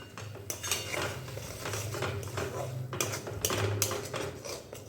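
A utensil stirs turmeric, cumin and Kashmiri chilli powder in a pan on the stove, with repeated metallic scrapes and clinks in an uneven rhythm, close and moderately loud.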